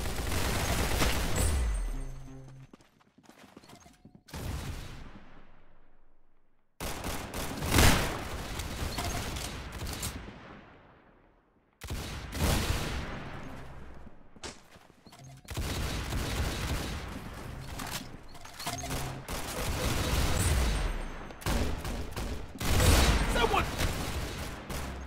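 Video game gunfire comes in dense, loud bursts of rapid shots separated by short gaps of near silence, one burst after another across the whole stretch.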